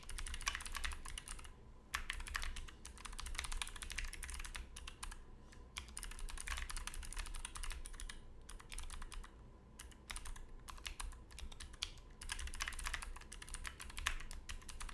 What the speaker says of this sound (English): It's kind of boring typing this,